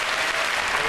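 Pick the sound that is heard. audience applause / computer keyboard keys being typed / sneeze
audience applause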